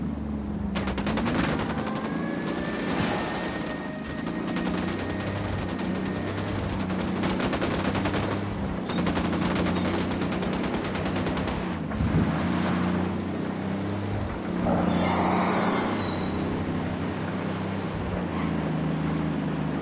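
Sustained automatic gunfire in Tom Clancy's Ghost Recon Wildlands, dense bursts of rapid shots over a low engine drone, loud and close throughout with brief lulls.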